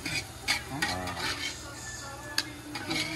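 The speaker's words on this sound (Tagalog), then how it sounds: "ihalo natin to sa palabok" Cooked squid is stirred into palabok, with clinks and scrapes of a utensil against the pan, a faint sizzle underneath and a couple of sharper taps.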